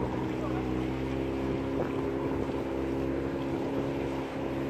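A motorboat engine drones steadily on the water, a loud, continuous hum with wind buffeting the microphone throughout.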